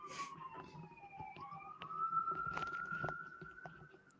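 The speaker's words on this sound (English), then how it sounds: "Listen to those sirens." Faint wailing police sirens rise and fall in the distance, with scattered clicks and knocks nearby.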